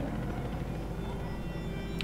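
Rotor drone of a helicopter hovering over a city square in the video game Battlefield, Shanghai level: a steady, dense low rumble holding at even loudness throughout, with a brief high chirp near the end.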